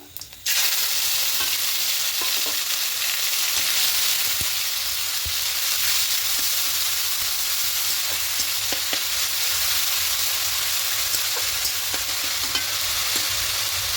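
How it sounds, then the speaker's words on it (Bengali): Onion and tomato paste sizzle loudly in hot oil with whole cloves, cardamom and cumin seeds, a dense continuous crackle with scattered stirring clicks after a quiet start. "এবার এখানে পেঁয়াজ আর টমেটো পেস্টটা দিয়ে দেবো"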